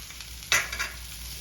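Okra (lady finger) sizzling in a frying pan while being stirred, with one sharp burst of frying noise midway and softer crackling around it, no voices.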